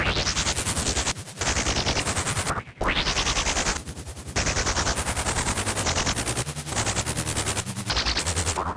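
Dense, harsh noise from a POISON-202 synth pulsing in rapid bursts with a few brief dropouts, loud and continuous with no voices.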